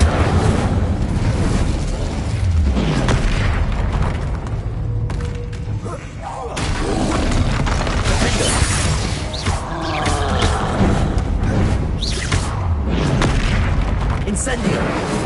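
Incendio fire spell from the Hogwarts video game, cast amid a rapid barrage of other combat spells: loud booming, crackling blasts and thuds in dense succession, with a voice shouting spell names over the top.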